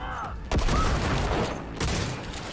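A grenade bursts in Cyberpunk 2077 combat, a loud booming blast around the middle of the clip, then a rumbling tail and further gunfire-like crackle.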